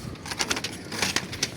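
Pigeons in a loft give soft, repeated coos and fluttery calls at close range over low background noise, with no one speaking.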